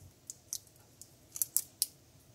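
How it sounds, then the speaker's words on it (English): Scissors snip through tape while finishing shuttle tatting work: a few quiet, crisp cuts spaced irregularly over about two seconds, with no voices. "slice the tape open"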